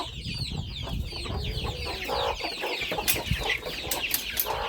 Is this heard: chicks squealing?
yes